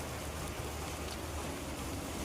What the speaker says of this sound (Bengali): প্রচুর হারে বৃষ্টি পড়ছে